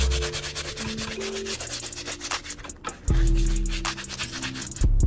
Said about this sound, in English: with the soft bristle brush, we will use this in order to clean the uppers